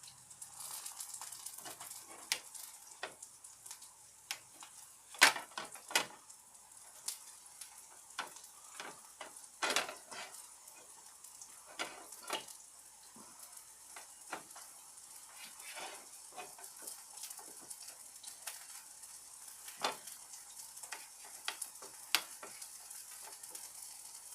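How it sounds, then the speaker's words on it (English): Chicken of the woods mushrooms sautéing in coconut oil, a quiet, fairly distant sizzle broken by scattered pops and occasional scraping of a utensil in the pan. "Cook these up in coconut oil."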